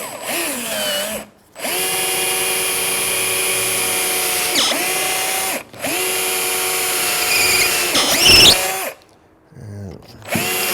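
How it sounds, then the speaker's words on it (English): A power drill whines in three long bursts separated by short pauses, loud and close, with a final uneven burst as it pre-drills into a wooden rafter tail. "I'm going to pre-drill in this spot."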